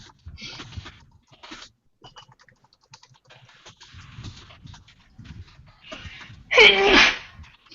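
A single loud, close sneeze bursts out near the end, after scattered keyboard typing and soft tapping in a quiet room.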